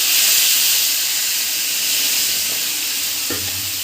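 Dry spice paste hitting hot oil already tempered with mustard seeds, black and white cumin, dried chillies and bay leaf for a bhetki fish-bone chorchori, giving a steady, loud sizzling hiss that flares briefly near the end.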